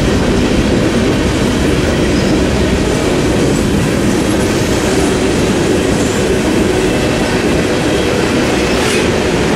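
A freight train carrying a Trinity two-bay covered hopper car, used for hauling salt and minerals, rolls steadily past close by, with a continuous loud rumble and a faint clickety-clack of the wheels.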